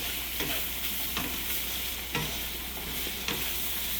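Vegetables with fennel seeds sautéing in a pan for vegetable curry, a constant close sizzle with a few stirring scrapes and no voices.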